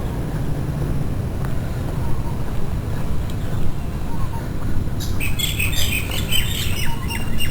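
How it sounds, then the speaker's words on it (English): Birds chirp and squawk outdoors over a steady low background rumble, with a burst of busy, overlapping bird calls rising clearly in the last few seconds. "All the birds are happy."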